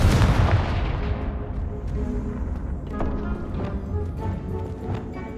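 Bombarda and Confringo spell blasts in Hogwarts Legacy: a loud booming explosion at the start, then a series of fainter thuds and crackling bursts fading over several seconds.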